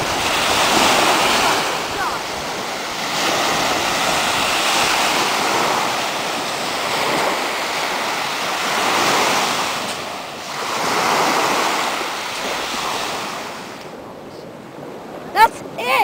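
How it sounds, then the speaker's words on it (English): Waves and surf at a beach, a steady wash of surf with wind noise rising and falling in swells, loud and continuous, with a brief sharper sound near the end. "I was wondering if you wanted to go to the beach today"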